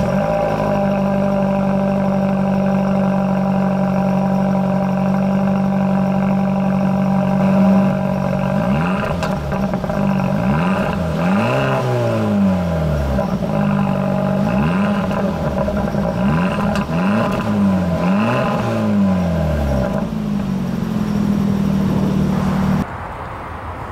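A 2017 Hyundai Elantra Sport with the 1.6-litre turbo engine idling steadily soon after a cold start, a loud close drone with several brief revs rising and falling midway before settling and cutting off near the end.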